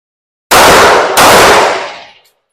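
Two pistol shots fired in a shooting drill, about half a second apart, each a loud, close blast with a long ringing decay that fades out over about a second.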